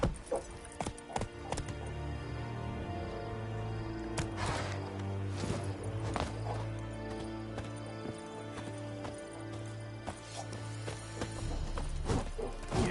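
Roach the horse gallops in The Witcher 3, a steady run of close, loud hoofbeats continuing throughout over a sustained tonal background drone, with no voices.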